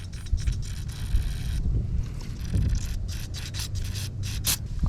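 Cleaner sprayed through a carburetor port on a 9.9 HP Johnson outboard boat motor, close hissing bursts in quick repeated pulses over a rumbling breezy background.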